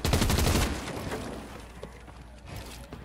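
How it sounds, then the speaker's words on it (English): Plane gunfire in a video game, a rapid rattling burst of machine-gun shots for about half a second, then fading into scattered fainter shots and mechanical noise. "He's shooting me down."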